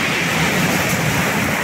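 Sea of Okhotsk waves about a metre and a half high breaking on a cold shore, a steady dense roaring wash with no pauses, loud and close, with no voices.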